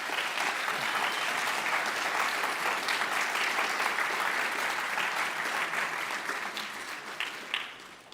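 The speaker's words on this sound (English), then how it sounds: "how about another round of applause for all these students" Sustained audience applause for students at a college signing day ceremony, a dense, steady wash of many hands clapping from start to finish, tapering slightly at the end with no voices over it.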